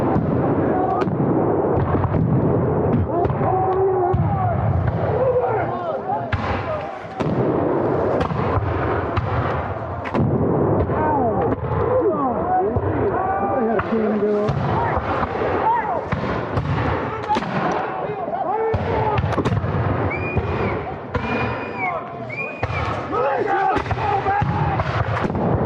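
Musket volleys and scattered shots crack through a Revolutionary War battle reenactment at Wetzell's Mill. The firing is dense and continuous, with a crowd and shouted commands beneath it throughout.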